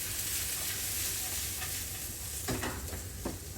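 An onion mixture with garlic and bay leaves fries in a pan with a steady, soft sizzle and hiss, and a few scraping stirs come near the end.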